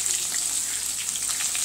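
Garlic and onion sautéing in a pan, a continuous bright sizzle with fine crackling pops, close and steady.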